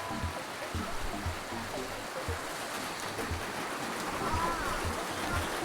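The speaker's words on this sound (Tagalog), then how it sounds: "Umuulan!" Rain falls steadily at a riverside campsite, a constant close wash of patter and flowing water.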